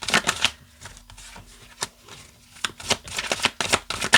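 Tarot cards riffled and shuffled in a series of crisp, papery bursts that come and go across a few seconds, close up with no talking.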